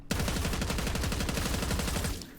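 A GPR-91 Rampager assault rifle in Black Ops 6 fires a sustained full-auto burst of about two seconds, a steady rapid rhythm of loud, close shots with no talk.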